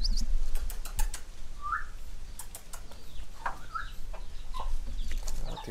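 Chickens clucking outdoors in the countryside, a few faint scattered clucks and short calls over a low, steady background rumble.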